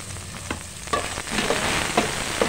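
Chopped onion and ginger fry in a hot pan while cooking papaitan, a steady loud sizzle with brief stirring scrapes and no voices.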